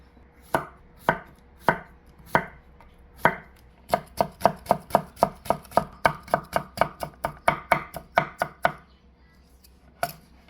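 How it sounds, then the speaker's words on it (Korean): A knife chops cucumber and green, yellow and red bell pepper on a board. The crisp strikes start slow and evenly spaced, then speed up into a quick steady run of about twenty close, loud cuts before one last chop. "야채, 오이, 파프리카 예, 색깔별로 조금씩만 썰겠습니다"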